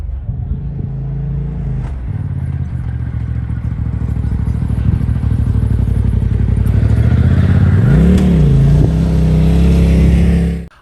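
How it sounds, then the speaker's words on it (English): A side-by-side off-road vehicle creeping down a steep rock ledge on the Fins N Things trail in Moab, its engine droning loudly and steadily close by with a brief rising rev near the end. "Want to see how easy a side-by-side goes down this?"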